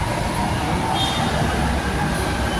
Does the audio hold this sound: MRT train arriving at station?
yes